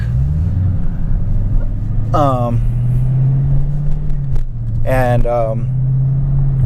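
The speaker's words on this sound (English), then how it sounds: "You can tell every time, it depends on what mode you go to, but the car does get a little bit louder." A Dodge Challenger Hellcat engine idles with a deep, steady, close rumble that stays fairly even throughout, while a voice briefly speaks over it twice.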